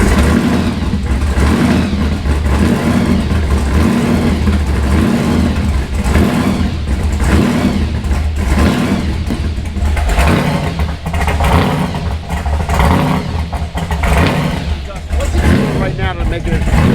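A Ford Mustang GT500 running on E85 fuel idles and revs in a loud, continuous mechanical rumble close by, rising and falling in pitch, while people talk over it.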